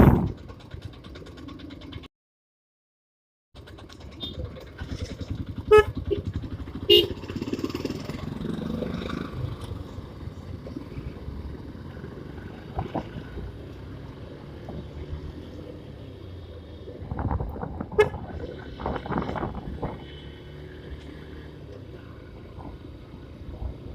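Honda Hornet 160 motorcycle ridden on the road, its engine droning steadily with rises and falls in revs and a brief cut-out near the start, wind noise over the run and no talking.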